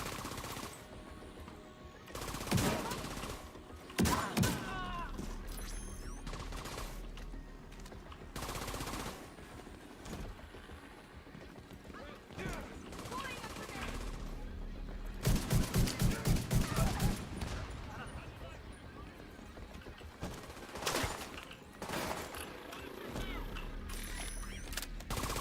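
A game turret fires in rapid bursts, with sharp clustered volleys that come and go over about 25 seconds. The densest rattling run falls near the middle, and mechanical clanks sound between bursts amid a fairly quiet, distant battle.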